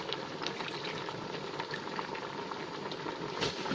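Mushroom curry with cicadas and sweet leaf vegetable simmers in a pot, giving a quiet, continuous bubbling with soft pops and a slightly louder burble near the end.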